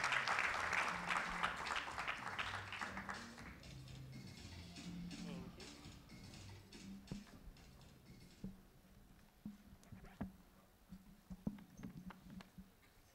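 An audience applauds as a speaker is welcomed onto the stage at a presentation on investment in African startups. Dense clapping is loudest at the start and fades into scattered claps under a low murmur of voices.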